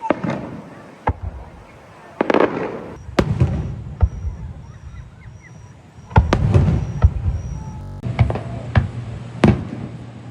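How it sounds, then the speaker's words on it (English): Fireworks burst over a beach on Marco Island, with a series of loud, irregular booms and crackling pops spaced a second or two apart, close by, with some voices in between. "the fireworks have begun"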